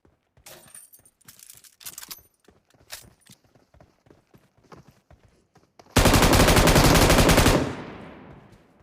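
Gunfire in the mobile battle royale game BGMI: scattered single shots and clicks at first, then a dense, loud burst of rapid automatic fire lasting about a second and a half before it stops and trails off.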